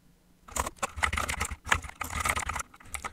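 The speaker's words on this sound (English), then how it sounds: "So let's type this in." Rapid typing on a computer keyboard while entering code, a brisk run of close, crisp key clicks in uneven bursts after a brief quiet start.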